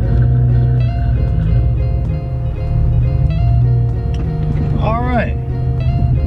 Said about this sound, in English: I have the windows down just because I want to hear the car